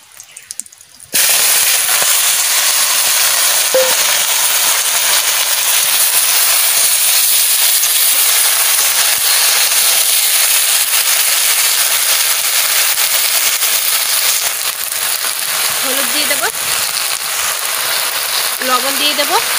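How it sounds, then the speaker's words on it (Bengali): Cumin seeds dropped into hot oil for a vegetable curry, a sudden loud sizzle bursting in and holding as a steady bright hiss to the end, with faint clinks late on. "জিরা দিয়ে দিচ্ছি"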